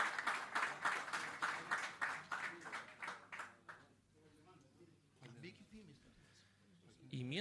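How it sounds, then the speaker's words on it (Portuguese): An audience applauds a departing guest at a formal event, dense clapping for the first few seconds before fading into low murmur and scattered voices. "Le damos un fuerte aplauso a Tomás López Pedemonte"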